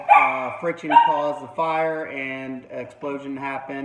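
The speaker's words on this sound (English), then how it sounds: "If you hear my dogs in the background," Dogs bark in the background of a home setting while someone talks steadily over them; the barks are faint and largely buried beneath his voice.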